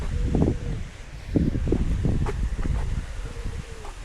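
Strong gusting wind buffeting outdoors, rising and falling in rough bursts with some rustling, no voices.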